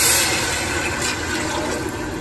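Stock poured into a pot of French onion soup, a steady rushing splash of liquid that is loud at first and then settles into a continuous pour.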